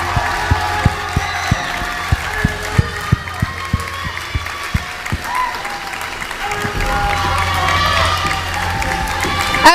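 Audience at a French beauty pageant final applauds and cheers, dense clapping with crisp claps at the front, whoops and shouts rising over it, swelling louder in the last seconds.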